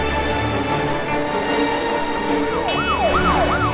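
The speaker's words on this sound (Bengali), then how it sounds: "এত পুলিশের গাড়ি কোথায় যাচ্ছে বুঝতে পারছি না।" Cartoon police car sirens wail at night, a loud continuous electronic tone that breaks into rising and falling swoops near the end, with a steady engine-like drone underneath.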